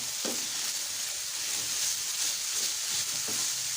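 Chopped capsicum sizzles and hisses in a hot pan as chicken patty filling fries, a steady close crackle with a few soft stirring scrapes and no talk.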